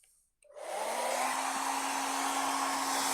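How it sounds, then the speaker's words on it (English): After a brief silence, a hair dryer switches on and runs with a steady, loud whirring blow and a constant hum. "I think I am going to have to go ahead and use my hair dryer."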